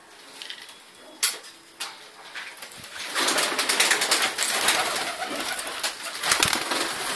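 Madrasi pigeons cooing and shuffling nearby, with a couple of sharp clicks early on and a busy, rustling flutter of birds building through the second half.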